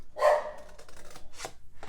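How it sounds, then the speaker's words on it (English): Dogs bark a few times nearby indoors, short sharp yelps with gaps between them, while cardboard is being cut for a cake box. "here come the dogs to say hello"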